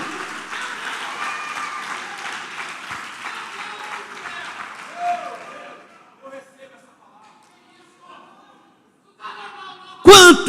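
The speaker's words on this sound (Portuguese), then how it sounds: "Aleluia, dê um aplauso bem forte a Ele." Church congregation gives a strong round of applause during a Portuguese-language sermon, a dense sustained clapping that fades out after about six seconds, followed by near silence, scattered voices and a sharp loud burst at the end.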